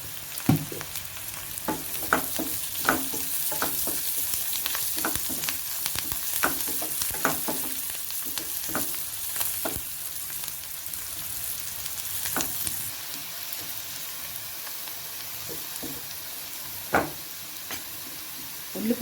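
Onions fry in a pan with turmeric added, sizzling steadily under repeated scraping stirs of a spatula, close and moderately loud, with no talk.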